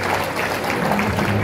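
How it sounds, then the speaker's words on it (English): Clapping from an audience at a 90th anniversary celebration for Maria Della Croce in Triggiano, a dense and steady wash of many hands, loud and close, filling the whole moment. "Great round of applause"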